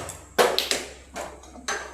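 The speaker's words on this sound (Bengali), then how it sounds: "গ্যাসটা চালু করছি" A gas stove is switched on in a kitchen: a few sharp clicks and ignition bursts, one after another, close by, followed by short gaps.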